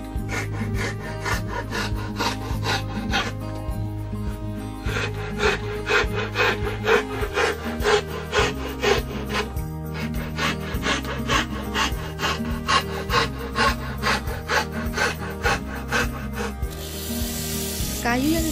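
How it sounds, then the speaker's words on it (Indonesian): Wood being hand-cut along a pattern drawn on it for a teapot made from scrap material, with repeated rasping strokes in a steady back-and-forth rhythm, loud and close throughout. "Setelah pola selesai dibuat, kemudian potong kayu sesuai dengan pola."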